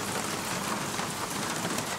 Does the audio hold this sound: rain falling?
yes